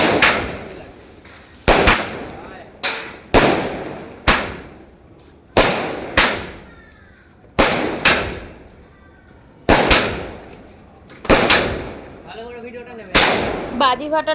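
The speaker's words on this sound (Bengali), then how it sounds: "বাজি ফাটানোর মধ্যে থার্টি শটটাই লাস্ট রেখেছিলাম" Thirty-shot firecrackers bursting for Kali Puja, a series of loud sharp bangs spaced a second or so apart, each ringing out with a decaying echo, some followed by faint crackle.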